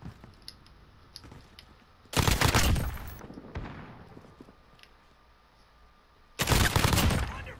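Two loud, close bursts of rapid gunfire from a shooter video game, separated by quieter stretches of faint mechanical clicks and rattles.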